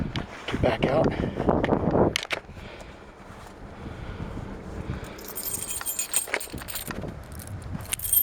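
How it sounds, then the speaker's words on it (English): Car keys for a 2015 Shelby Cobra Factory 5 jangle as they are pulled from a pocket, a close metallic rattling in short bursts over rustling and handling noise, with a bright clinking flurry near the end. "And of course the keys are in my pocket."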